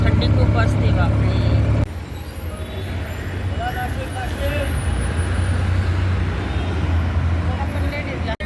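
A private bus passes along a road on a cold morning, its broad engine roar and rumble swelling loud and close, then easing into steady traffic noise with faint voices in the background.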